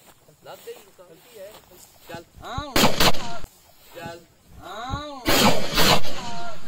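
Loud, sharp shotgun blasts ring out during a black partridge hunt in Punjab, with several spaced reports close by and people talking between the shots.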